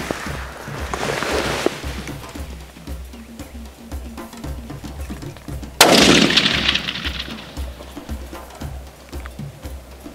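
Rifle shots during an eland hunt on a safari, two loud sharp reports several seconds apart, each ringing out with a lingering outdoor echo.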